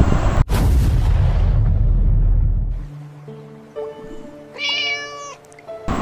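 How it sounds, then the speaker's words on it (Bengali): In a cartoon, a rush of water-like noise cuts off, then a mother cat cries with a few plaintive, wavering meows, close and fairly loud. "বিড়াল ছানার মা কাঁদতে থাকে"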